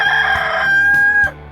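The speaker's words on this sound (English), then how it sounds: "Chickens!" A rooster crows once, loud and close, a long drawn-out call that breaks off sharply at the end.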